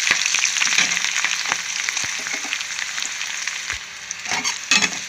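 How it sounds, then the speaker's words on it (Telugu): Garlic, green chilies and dried red chilies fry in a pan, giving a steady close hiss of sizzling oil broken by scraping stirs, with no talk. "చూసారు తెల్లుల్లిపాయలు, పచ్చిమిరపకాయలు, ఎండుమిరపకాయలు ఇది వేసి కలుపుకుందాం."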